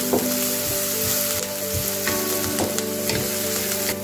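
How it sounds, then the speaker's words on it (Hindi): Onions sauté in a pan, a steady close sizzle with short scraping strokes of stirring that repeat through the stretch, and no voices. "अब इसमें हम प्याज ऐड कर देंगे, सौते करेंगे।"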